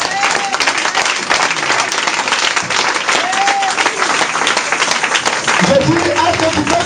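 A church congregation applauds loudly and continuously for Jesus, dense clapping filling the hall while voices call and cheer over it.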